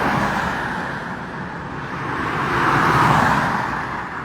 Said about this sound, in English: You all can see that the cars are driving on the road.